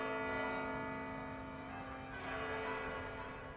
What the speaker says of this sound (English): welcomed with the ringing of church bells